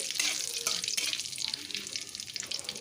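Whole cinnamon, cardamom and cumin seeds frying in hot oil as a tempering, a steady soft sizzle with crackling spits, close but fairly quiet throughout.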